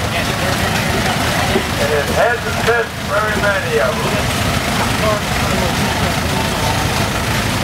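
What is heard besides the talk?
steam traction engine running in threshing bee parade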